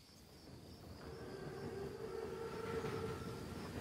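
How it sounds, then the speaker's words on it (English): A German armoured train (Panzerzug) passing in Call of Duty WW2, a low, steady rolling rumble joined by faint high metallic squeals and a thin tonal whine, quiet and somewhat distant throughout. "Train's right on time."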